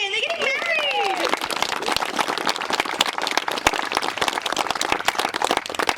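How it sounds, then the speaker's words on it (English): Wedding guests break into applause, a dense run of sharp individual claps from a modest crowd, with a whoop and vocal exclamations rising over the start before the clapping carries on alone. "let's give them a big round of applause again"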